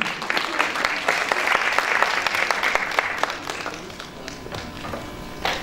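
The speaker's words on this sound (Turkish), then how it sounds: "Alkışlarınızla, büyük alkışlarınızla efendim uğurluyoruz" Audience at an award ceremony applauding as the year's best woman entrepreneur is invited to the stage, dense clapping that gradually thins and fades, with a presenter's voice briefly over it.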